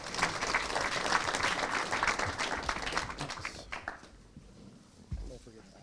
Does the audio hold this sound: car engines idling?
no